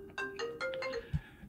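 A laptop notification chime rings out as a short, fairly quiet electronic melody of a few tonal notes, close by in a room.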